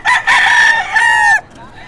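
A banded lemon sweater gamecock crows once, loud and close: one long, strained call of about a second and a half that breaks off abruptly, with no talking.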